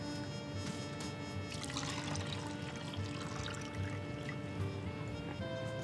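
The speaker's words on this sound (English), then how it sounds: "That's a lot of water we're getting." Water pours steadily in the adventure video game A Golden Wake: a continuous, moderately loud splashing stream over a faint musical background, with no one speaking.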